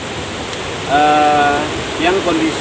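Steady broadband rushing of the Curug Ageng waterfall, a local beauty spot in Kampung Cibangkur, Desa Sukadaya, runs through the whole clip as a constant wash beneath a voice.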